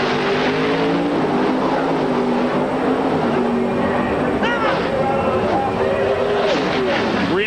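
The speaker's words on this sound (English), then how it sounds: "815 cubic inches of mountain motor in pro stock" Pro stock drag race cars with 815-cubic-inch mountain motors roar down the strip at the 2003 IHRA Rocky Mountain Nationals, loud and continuous with pitch sweeps as they pass, under an announcer's steady commentary.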